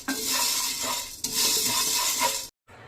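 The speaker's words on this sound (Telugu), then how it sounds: "దీంట్లోనే కొన్ని పచ్చిపప్పు, కొన్ని మినపప్పు వేసి దోరగా ఫ్రై చేసుకోవాలి" Chana dal and urad dal fry over a low flame in a pan, giving a loud, steady close-up sizzle with scraping stirs. The sound cuts out briefly near the end, and no one speaks.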